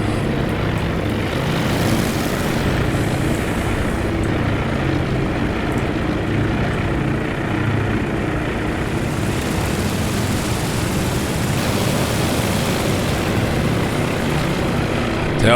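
Propeller carrier aircraft launching in the naval strategy game Task Force Admiral, a steady, loud engine drone that swells and fades over fifteen seconds.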